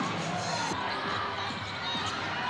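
Arena crowd at an MPBL basketball game between the Pasay Voyagers and Rizal Golden Coolers cheering in a loud, sustained roar that fills the whole moment without a break.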